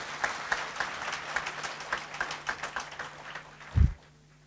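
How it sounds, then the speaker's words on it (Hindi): An audience at a speech event in Delhi claps in a steady, lively burst of applause lasting a few seconds, ending with a single dull thump as the clapping fades. "अपने लिए एक बार जोरदार ताली बजाइए इस विश्वास के लिए"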